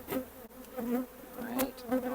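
Honey bees buzz close by as a hive is opened for its first inspection after winter. The dense, wavering drone of many bees continues throughout, with no talk.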